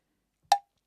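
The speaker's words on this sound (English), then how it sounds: "So here's a metronome at 60 BPM." A single sharp, bright click of a metronome set to 60 BPM sounds once in the quiet, with silence before and after.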